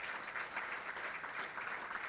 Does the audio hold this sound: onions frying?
no